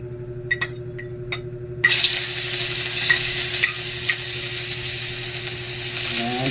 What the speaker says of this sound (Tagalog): mainit yung mantika, ilagay natin yung luya